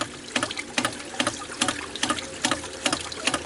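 Big air bubbles drawn in with water by a pump under heavy delivery head, heard as rhythmic gurgling bursts roughly every half second over a steady watery rush, close and loud, with no talking.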